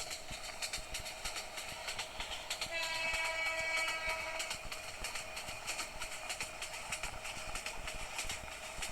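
In the Train Simulator Bangladesh video game, a train runs with a steady rumble and rhythmic clatter throughout, and a horn sounds briefly in the middle.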